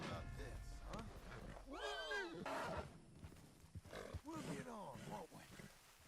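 Hungarian half-bred horse in Red Dead Redemption 2 neighing: a couple of loud, wavering whinnies that rise and fall in pitch, heard under continuous talk and game background sounds.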